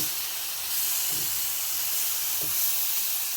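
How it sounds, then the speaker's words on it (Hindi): Chicken tikka pieces sizzle in a non-stick pan with a loud, steady hiss. A few soft low thumps rise and fade within it. "अब चिकन जो है मैंने डाल दिया है पैन में। ये नॉन स्टिक पैन है।"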